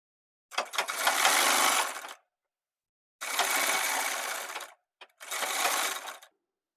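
Sewing machine stitching a loose shirt collar, running in three bursts: a long run of about two seconds, a second of similar length, a quick tap, then a final short run, with pauses between and no talk.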